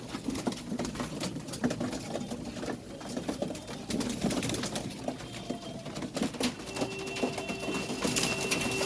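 Pigeons coo steadily close by after being released, with faint pattering and fluttering mixed into a busy, constant outdoor backdrop.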